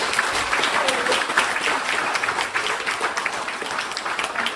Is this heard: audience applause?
yes